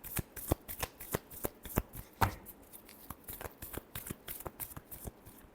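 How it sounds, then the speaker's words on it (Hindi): A deck of tarot cards is shuffled by hand, a quick run of crisp riffling snaps and flicks in uneven bursts, close and fairly quiet with no speech. "Last shuffle."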